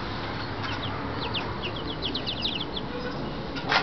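Baby chicks peep in quick, high, overlapping chirps over a dense, steady rustling background, close by, with a brighter flurry near the end.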